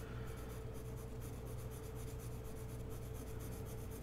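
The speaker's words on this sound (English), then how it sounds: "I think this pencil is a little too sharp." Graphite pencil scratching steadily across paper while sketching rose tattoo flash, a continuous close, soft rasping rub with no talking.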